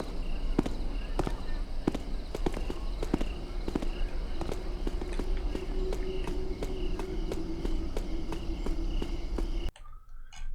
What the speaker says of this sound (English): Your footsteps are louder when you run, when you cross over loud floor surface such as metal.